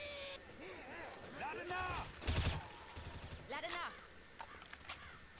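Gunfire in the zombie shooter Left 4 Dead: bursts of rapid shots with a loud cluster in the middle and scattered single cracks afterward, heard behind someone talking throughout.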